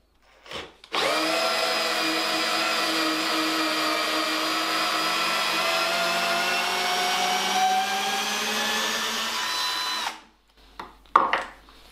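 A 12V cordless drill driver (GSR) drives a 280 mm, 10 mm screw in one steady, loud run of about nine seconds, with the motor pitch slowly sinking under load. It stops abruptly, followed by a few brief handling knocks.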